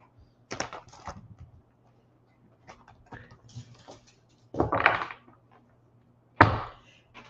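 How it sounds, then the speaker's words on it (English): Tarot cards are shuffled by hand in a quiet room, giving several separate bursts of riffling and slapping, with the two loudest near the end, separated by short pauses and no talking. "I'm going to shuffle the cards 2 times on your behalf."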